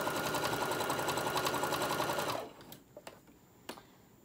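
A sewing machine runs fast and steadily as it stitches fabric guided along the presser foot edge, then stops after about two and a half seconds, leaving a few faint clicks and handling sounds.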